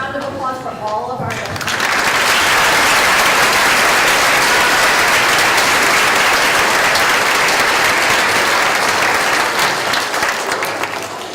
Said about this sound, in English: Can we have a round of applause for all of our